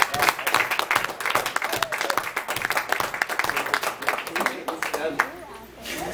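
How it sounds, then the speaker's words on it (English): A roast audience claps loudly for a comedian taking the stage, dense rapid clapping with whoops and voices mixed in, thinning near the end. "Up next is Chris Morningstar. Give him a round of applause,"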